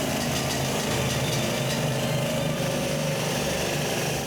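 A tunnel drilling tool run in a drilling chamber exhibit at a street festival, giving a loud, continuous, steady mechanical roar with a rough rattling texture that holds at an even level throughout.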